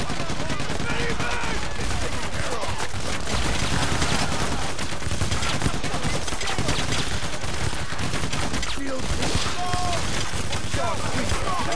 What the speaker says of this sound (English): I'm getting shot the shit out of though!